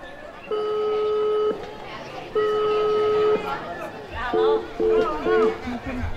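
Two long steady ringback tones followed by a quick series of short beeps, heard over a faint murmur of background voices.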